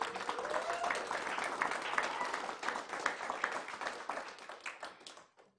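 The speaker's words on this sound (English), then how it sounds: "So let's give a round of applause for Bess." Applause from a city council meeting audience, a small crowd clapping briskly with some individual claps standing out, building then tapering off and ending in near silence.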